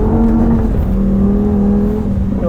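A Lamborghini Huracan Sterrato engine revs hard while the car slides around on a loose surface near cones, a loud, close, steady roar with shifting pitch and tire noise, no voices.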